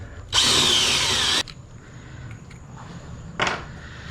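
A loud power drill boring into a concrete wall whirs steadily for about a second, stops, then gives a brief second burst; quiet background otherwise.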